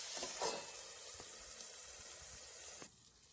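Capsicum stir-fry in a pan hisses with a bright, steady sizzle after a sprinkle of water, with a few soft stirring scrapes, then drops away sharply near the end.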